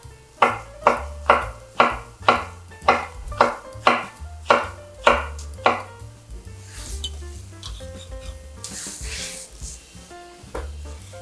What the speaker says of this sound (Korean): 너무 얇지 않게 썰어줍니다